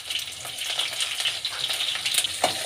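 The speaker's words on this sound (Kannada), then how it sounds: "ಸ್ವಲ್ಪ ಬಾಡಿಸ್ಕೊಳ್ಳೋಣ." Green chilies fry in hot oil with mustard seeds, urad dal and chana dal, a close, lively sizzle with crackling pops and stirring scrapes throughout.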